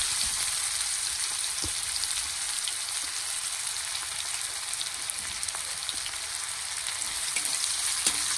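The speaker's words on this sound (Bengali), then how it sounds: "পেঁয়াজটা একটু ভালো করে ভেজে নেব।" Onions frying in a pan crackle and sizzle steadily and close by, a dense rain-like patter with scattered louder pops and no talking.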